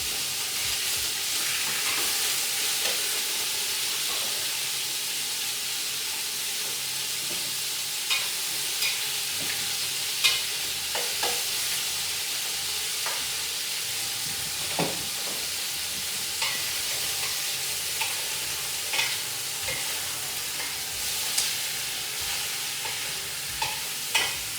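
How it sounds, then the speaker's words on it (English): Beef fries in hot oil with a steady, close sizzle while it is stirred around the pan, and scattered scrapes and clacks of the utensil sound over the hiss, with no voices. "Now I'm going to throw some of the beef in, mix it around"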